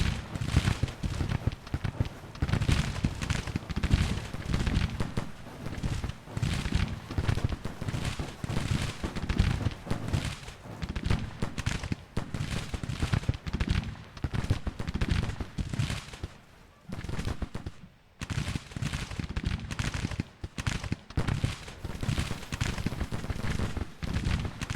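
Grand Tactician: The Civil War battle brings continuous musket volleys and artillery fire as a dense, crackling roar of overlapping shots with heavier booms, steady and unbroken apart from a brief lull near the end.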